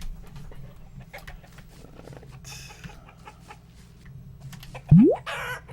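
A chicken in the blocky role-playing game Forge Quest clucks over faint keyboard typing, followed by a loud rising game sound effect near the end.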